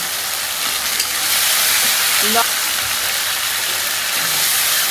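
Meat with turmeric and chilli powder sizzles loudly and steadily in a pan, a dense continuous hiss close to the microphone with a few faint stirring knocks and no talking.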